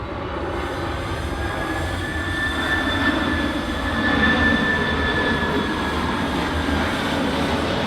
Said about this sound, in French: Avion.